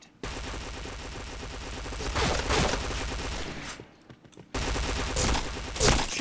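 Loud, dense bursts of rapid gunfire from a video game shooter, close and continuous, with a short drop-off near the middle before the shooting resumes.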